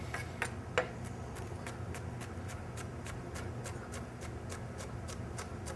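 A knife dices an Anaheim pepper on a cutting board in a steady run of quick, light, evenly spaced taps over a low background hum, with a couple of slightly louder chops near the start.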